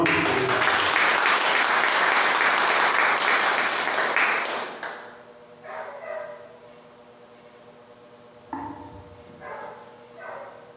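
Loud congregation applause during a Portuguese-language church sermon fills the opening five seconds, then drops away, leaving scattered softer claps and murmurs over a quiet hum.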